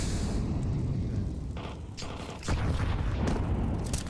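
Dense, rumbling explosions from grenades during a Counter-Strike match, dull booms and crackling blasts layered over a constant noisy roar, with a stronger surge partway through.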